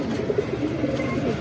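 Pigeons cooing at close range, soft low rounded calls repeating through a brief, fairly noisy moment.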